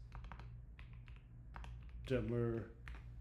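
Quick bursts of clicky keystrokes on a computer keyboard while SQL is coded live, close and fairly quiet, with a short spoken phrase breaking in midway over a low background hum.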